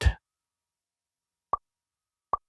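A soft thump, then two short, bright bubbly pops spaced apart against silence.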